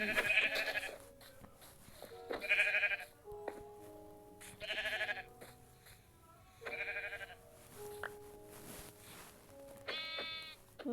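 A sheep in the Minecraft video game bleats over and over, each wavering bleat about two seconds apart and fairly loud, with faint game background underneath.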